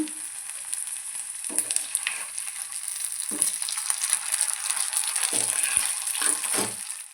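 Fish frying in a pan, giving a steady, bright, loud sizzle that goes on throughout, broken by a few soft clinks and scrapes of a utensil, close and with no talking.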